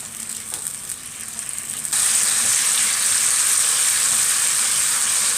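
Garlic hits hot ghee for an Egyptian molokhia tasha, bursting into a loud, steady sizzle after a quieter opening, frying continuously without any talking.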